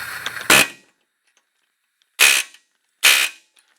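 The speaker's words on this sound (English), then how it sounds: "I cut a little slit into it, and I'm gonna try to hammer it apart" Three sharp, loud metallic hammer strikes on a seized, slit tapered bearing ring out at uneven intervals, each decaying quickly into silence.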